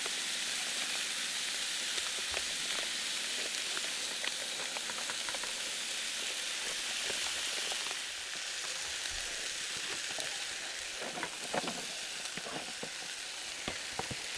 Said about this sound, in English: you can see my dinner still sizzling